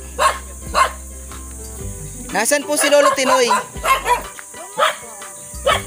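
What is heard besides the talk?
dog barking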